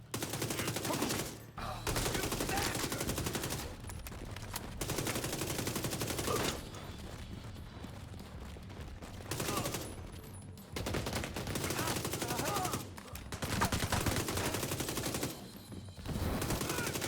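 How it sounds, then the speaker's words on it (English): Gunfire in the video game The Division 2, with repeated dense bursts and volleys of shots separated by brief pauses, fairly quiet overall. "I heard gunshots. Maybe those punks are armed."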